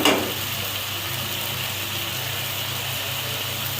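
Turmeric paste, salt and chili paste stir-fry in a pan, starting with a sudden loud burst of sizzle that settles into a strong, constant hiss, close and unbroken, with no speech.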